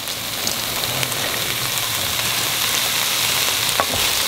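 Raisins and onions fry together in a pan for Kuwaiti majboos, a loud, close, steady sizzle with crackling pops throughout.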